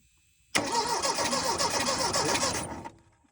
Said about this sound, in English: Briar, crank it over.